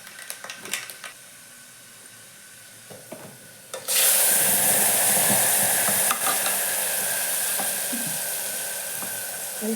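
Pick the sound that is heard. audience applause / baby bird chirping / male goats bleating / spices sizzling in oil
spices sizzling in oil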